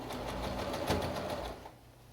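A sewing machine stitches elastic in a steady, quiet mechanical whir that slows and stops near the end, with no talking.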